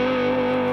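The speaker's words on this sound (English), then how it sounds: "a nice warm analog sounding overdrive, which is always handy to have" Warm analog-style overdrive from a guitar emulator plugin drives a sustained, thick distorted guitar tone with dense buzzing harmonics, loud and steady throughout with no talking.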